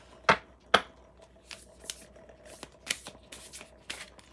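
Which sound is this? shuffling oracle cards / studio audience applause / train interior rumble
shuffling oracle cards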